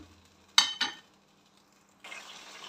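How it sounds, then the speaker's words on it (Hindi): Chicken karahi with yogurt being stirred in a pan, two quick scraping strokes followed by a quiet pause and then a steady soft sizzle of frying, close by with no talk. "इसकी दही के साथ अच्छे तरीके से भुनाई करेंगे"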